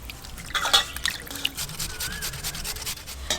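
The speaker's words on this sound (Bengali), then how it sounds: "এই চিকেনের পিসগুলো হলেই অনেক চিকেন পকোড়া হয়ে যাবে। জল দিয়ে ভালো করে ধুয়ে নেব।" Raw chicken pieces for pakora being rinsed in water by hand, with soft rubbing, dripping and trickling sounds in a kitchen, close and moderately quiet, with no talking.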